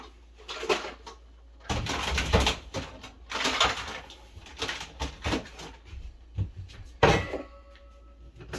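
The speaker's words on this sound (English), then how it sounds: "going to get a bowl. That's what you're hearing in the background" Kitchen cupboards and dishes clatter in bursts while a bowl is fetched, with several knocks and scrapes spread unevenly among quieter gaps.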